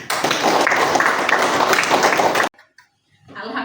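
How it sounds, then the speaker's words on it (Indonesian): Classroom of children breaking into a burst of applause, dense and loud for a couple of seconds before cutting off, followed by quiet and a brief voice. "Tepuk tangan dulu untuk anak-anak."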